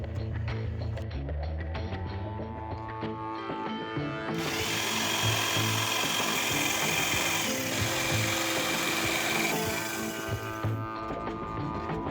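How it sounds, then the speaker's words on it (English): Power tool shaving wood off the bottom of bed supports in an SUV camper, a steady whirring motor with a loud grinding cut lasting several seconds before winding down, close by. "I'll just have to shave about a ½ an inch off the bottom of the supports"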